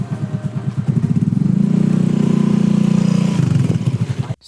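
A motorcycle engine runs hard at speed, a steady loud mid-pitched drone with pulsing revs that swell and hold before cutting off abruptly at the end.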